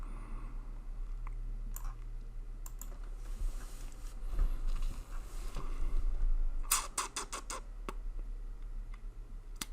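A computer mouse clicks during an article search, with sparse, crisp single clicks and a quick cluster of rapid clicks over a low steady hum, with no talk.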